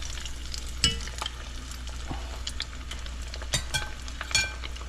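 Shrimp meatballs sizzle steadily in a hot frying pan, a close crackling hiss with scattered pops and a few utensil scrapes.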